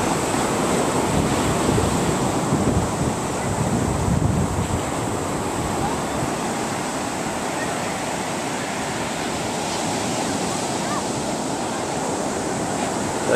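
Ocean surf at Fernandina Beach, Florida, a loud continuous wash of breaking waves mixed with gusty wind buffeting the microphone, steady throughout with no talk.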